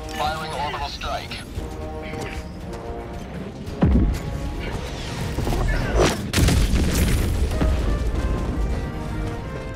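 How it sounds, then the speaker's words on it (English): Orbital strike explosions from Helldivers 2 boom out in heavy bursts, with a sharp blast near four seconds and another cluster around six seconds over a dense, rumbling battle din. "Firing orbital strike."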